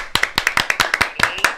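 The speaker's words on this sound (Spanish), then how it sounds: "aplausos." Close, sharp hand claps in a quick uneven rhythm, about a dozen distinct slaps, as a studio audience welcomes a guest onto a talk show.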